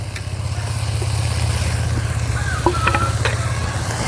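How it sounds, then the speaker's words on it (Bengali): Bitter greens being stirred into a village-style fish curry with river puti fish, a soft simmering sizzle under a constant low hum, with a few light scraping clinks of the stirring utensil. "জলের সঙ্গে মাছের সঙ্গে শাকগুলো আমি ভালো করে নেড়ে চেড়ে মিশিয়ে নিলাম"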